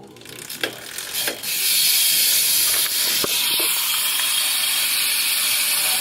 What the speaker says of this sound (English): I will show you what the hub sounds like. Here it is, just backpedaling normally.